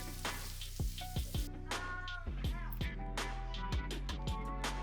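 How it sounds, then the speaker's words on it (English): About 200 grams of paneer cubes fry and get tossed in a pan, a soft steady sizzle with scattered clinks and knocks of stirring, close and quiet, with no talk over it. "I'm adding about 200 grams of paneer cubes. Toss it for about 2 minutes"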